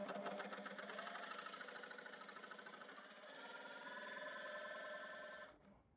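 A coverstitch sewing machine runs continuously at speed, making a fast, even mechanical whir with a rapid stitch rhythm, close and moderately quiet, before stopping abruptly near the end.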